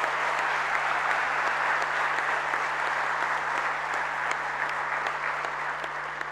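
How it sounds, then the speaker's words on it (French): Steady, sustained applause fills a large hall at a national young farmers' congress in Saint-Malo, even in level from start to finish, with a low electrical hum beneath. "Et vous pouvez l'applaudir."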